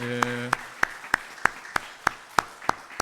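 A church congregation claps together at a Sunday service to welcome visiting elders, about ten sharp, evenly spaced claps in a steady rhythm after a brief sustained tone at the start.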